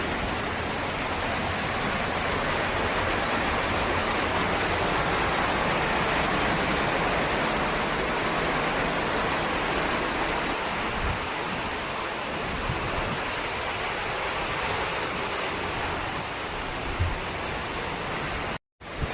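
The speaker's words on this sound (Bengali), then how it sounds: "বৃষ্টি দেখছো আমার গায়ের উপর কেমন ভাবে পড়ছে" Heavy rain driven by strong wind makes a constant, loud rushing roar that holds steady for the whole stretch before cutting off abruptly at the end.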